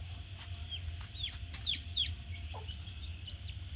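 Chicks peeping and clucking softly at a distance on a poultry farm, scattered short calls over a low steady background hum.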